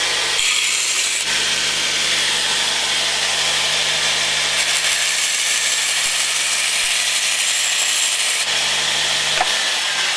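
Belt grinder grinding the curved edge of an axe with a coarse belt, a loud continuous abrasive rasp that holds steady for about ten seconds, shifting slightly in tone as pressure changes.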